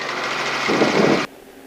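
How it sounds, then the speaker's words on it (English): Helicopter climbing away after takeoff on a first flying lesson, heard from inside as a loud, close, steady engine and rotor drone that cuts off abruptly to near quiet just before the end. "We are flying a helicopter."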